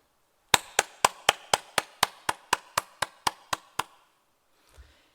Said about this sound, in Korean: 3일간의 집회에 함께해 주신 하나님께 모든 영광을 박수로 올리겠습니다